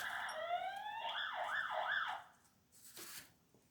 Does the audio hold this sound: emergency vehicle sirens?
yes